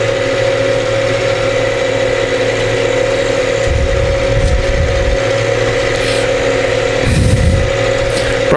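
A tractor mows green manure grass in a field, its engine droning at a steady mid-pitched hum with a strong tonal whine, and heavier low rumbles surging twice as the mower works through the growth.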